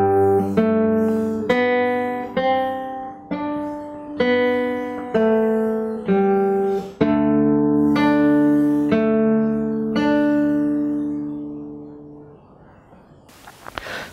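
A fingerstyle acoustic guitar plays a passage of a piece as a string of clear plucked notes and chords that ring out and fade at the end, heard alone and close.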